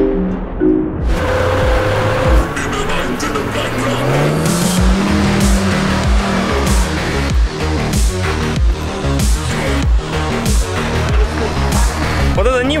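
Lada Niva driving off-road, a steady engine drone with shifting revs and rough, clattering bumps and knocks running through the whole stretch, with no speech over it.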